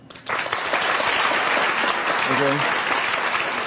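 A studio audience on a daytime talk show breaks into sustained applause that fills the room loudly from start to finish, while a host briefly speaks over the clapping.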